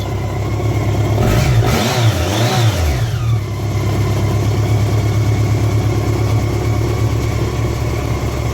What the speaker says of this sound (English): when I turn on the key, she primes and she runs.